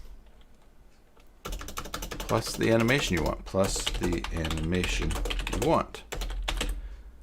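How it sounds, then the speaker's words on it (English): Typing on a computer keyboard during a live stream about Joomla, with steady key clicks running beneath continuous nearby talk. "I'm just typing this out now"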